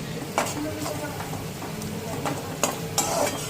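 Onions fried in a pan with ginger-garlic paste and turmeric are stirred in a steady sizzle, with a few sharper spoon scrapes against the pan standing out near and clear.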